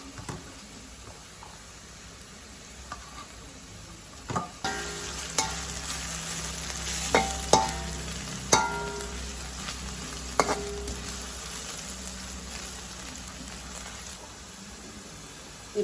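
Potatoes and carrots fry in a pan of hot oil for vegetable noodles, giving a steady close sizzle with scattered louder crackles and stirring clatters, no voices.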